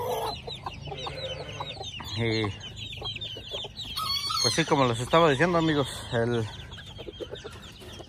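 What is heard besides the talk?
hens clucking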